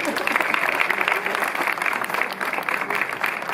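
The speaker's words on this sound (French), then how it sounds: "Donc ça peut s'applaudir" A village festival crowd claps for a magician at an inauguration, giving dense, continuous applause at moderate loudness throughout, with no gaps.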